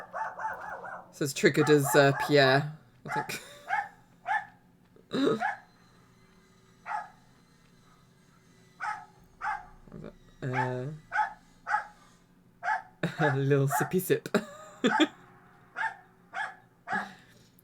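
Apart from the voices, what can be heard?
neighbour's small yappy dog barking next door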